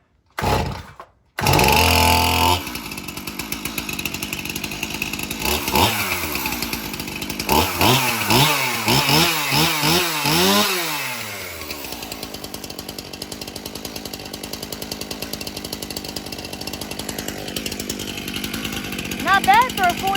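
A four-year-old Farm Boss chainsaw is cold-started at half choke: rasping pull-cord tugs, then the engine catches and runs with an uneven, buzzing idle, with someone talking.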